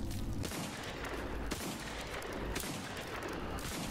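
A big gun fires in the shooter game VLADiK BRUTAL, with heavy booming blasts repeating roughly once a second over a constant loud rumble.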